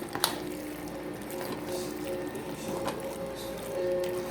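Wet, sticky squelching and soft clicks from a spoon stirring thick macaroni and cheese in a pot, close up and fairly quiet.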